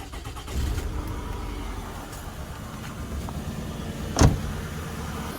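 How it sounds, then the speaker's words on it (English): A 2002-2006 Toyota Camry, tested after a spark plug check for engine noise and rattling, cranks and starts with a sharp burst about four seconds in, its motor idling steadily around it. "Alright, so I will start my car to check if that spark plug was the issue."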